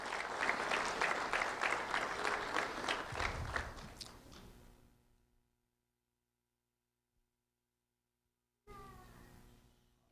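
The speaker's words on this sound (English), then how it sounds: "A round of applause for Olivia Trudell, please." An award ceremony crowd applauding for a second grade student, a dense burst of clapping that fades away over several seconds, followed by silence and then a short renewed patter of claps.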